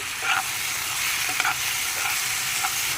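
Tomatoes, ginger, garlic and turmeric fry in a pan, a soft steady sizzle under a few light scrapes and taps of a spoon stirring, close and fairly quiet with no talking.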